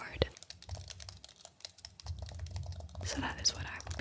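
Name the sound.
typing on a computer keyboard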